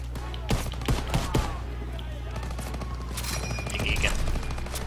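Bursts of gunfire in a World War II Call of Duty game, several sharp shots early on then a busier stretch of firing, with a voice talking over the action.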